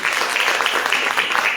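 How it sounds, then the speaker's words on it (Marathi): An audience at a classical music event applauds the parents, with a steady burst of clapping that holds evenly for its short length. "एकदा पालकांसाठी जोरदार टाळ्या व्हायला पाहिजे"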